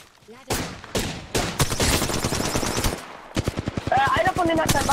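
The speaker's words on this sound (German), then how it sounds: "noch mehr Schüsse" Rapid bursts of automatic gunfire from the video game Apex Legends crackle in dense, loud volleys with brief gaps, overlapping shots from several weapons, and game sound effects layered on top.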